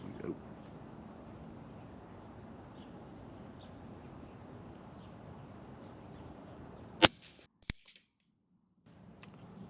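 A Snowpeak AP900 airgun fires once: a sharp, loud crack as the hammer strikes the valve, followed by a quick second click, then near silence after a stretch of steady low background noise.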